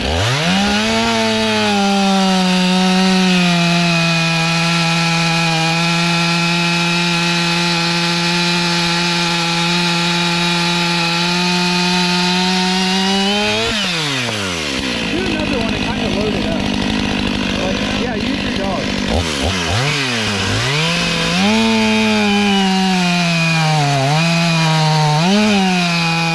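A Husqvarna 500i chainsaw cuts firewood at a firewood yard, its engine holding a loud, steady high whine before dropping off, idling briefly, then revving back up into another cut.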